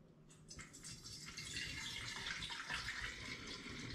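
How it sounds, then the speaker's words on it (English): Homemade rhubarb and rose gin poured through a funnel into wine and spirit bottles, a steady close trickle and gush of liquid that swells after a faint start and then continues unbroken. "And I'm just going to pour through a funnel."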